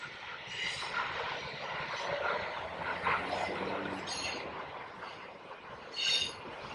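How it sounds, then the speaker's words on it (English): A train rumbles past at a distance in a steady, noisy wash, with occasional metallic squeals rising above it. "The freight train's moving by."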